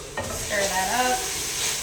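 Green seasoning is stirred into hot oil with sesame oil in a pan for Guyanese chicken chowmein, giving a steady close sizzle with brief scraping stirs and a faint tonal squeak.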